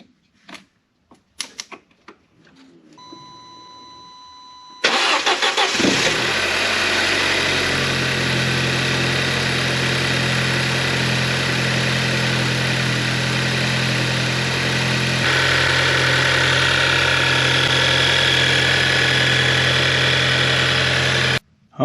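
Audi A4 B7 2.0 Turbo FSI engine cranks briefly after a few clicks and a fuel pump whir, then catches loudly and settles into a steady close idle that continues without talk.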